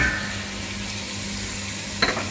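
Chopped onions go into a pan of melted butter and 200 g of browning bacon lardons, giving a steady, close, moderate sizzle with a brief clatter of utensil or pan near the end; no talking.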